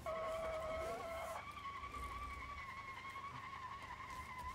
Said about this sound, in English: See if we can get some wheels spin.